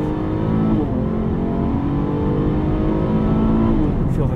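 A 2018 Buick Regal Sportback GS engine revs and drones steadily at close range, its pitch rising and falling slightly, with no voices.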